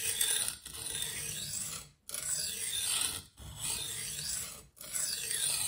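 A knife is drawn across a Sharpal 162N diamond plate at 325 grit in repeated light rasping strokes, each a second or so long with brief pauses between, close and unaccompanied by talk.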